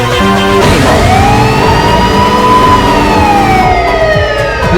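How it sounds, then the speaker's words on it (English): A loud, sustained time siren sounding inbound, its pitch swelling up and then sliding down over a few seconds, close and dominant with a low rumble beneath and no talking. "KP15 is the time siren to sound inbound for the new Kanbordee City."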